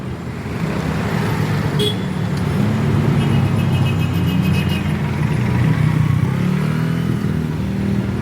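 A motorcycle engine roars loudly and close by as it speeds past, its throaty rumble rising and falling over steady road traffic noise.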